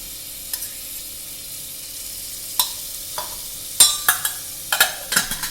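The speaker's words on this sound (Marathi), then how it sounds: "आता आपण त्याच्यामध्ये एक मोठा चमचा आपल्याला दही घालायचं आहे गॅस बारीकच करायचं आहे" Yogurt goes into a pan of masala on low heat for egg biryani, with a quiet background sizzle broken by scattered sharp spoon clinks and scrapes that grow busier toward the end, no talking.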